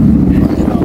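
Strong wind buffets the microphone outdoors in a loud, continuous low rumble that swamps everything else for the full moment.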